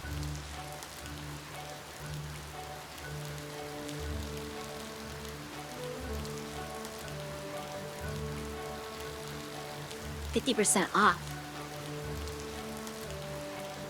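Rain falling in the video game Ova Magia, a steady soft patter on surfaces over a low droning game soundtrack, with a brief clattering burst near the end.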